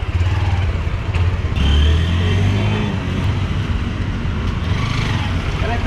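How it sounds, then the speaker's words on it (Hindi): A Honda Hornet motorcycle with worn crank bearings idling and revving up close, a loud, rough, steady engine drone with a brief swell in revs, while people talk over it. "साउंड आ रही है ना, क्रैंक वगैरह के बैरिंग वगैरह सब बदले आ रहे हैं"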